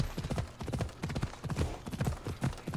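Rhythmic clip-clop of horse hooves at a steady gallop while riding through the world of Assassin's Creed Odyssey, close and prominent with no talk over it.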